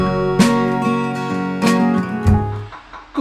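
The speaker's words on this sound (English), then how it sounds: "That popping sound that you can hear is the air still" An air still running in a busy home kitchen where hoppy cider is being brewed gives several sharp, loud pops over a low humming drone.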